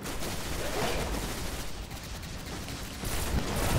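Rapid gunfire from the Destiny video game, dense and continuous bursts with a brief lull in the middle before the shooting picks up again.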